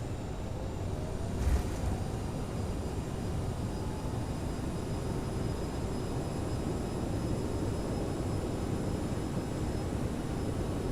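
Thrust reversers on a CRJ jet landing in Microsoft Flight Simulator 2024, a steady broad roar at moderate level holding for the whole stretch with no voices over it.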